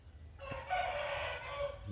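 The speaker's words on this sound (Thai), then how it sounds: "มีเสียงไก่ตี" Rooster crowing in one drawn-out call, fairly faint and a little distant, with light background noise and no speech.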